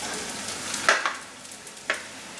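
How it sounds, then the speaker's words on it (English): Potstickers frying and browning in a pan, a soft sizzle broken by two brief scraping bursts as they are moved, close and quiet with no talk. "we're going to let them fry up a little bit, just like that."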